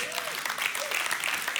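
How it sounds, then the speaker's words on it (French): Brief burst of audience applause at a French church sermon, with a voice speaking over the clapping. "on peut l'applaudir bien fort"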